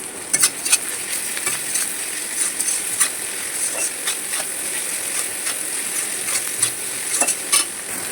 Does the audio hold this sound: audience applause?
no